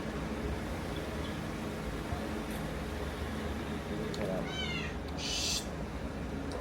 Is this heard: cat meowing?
yes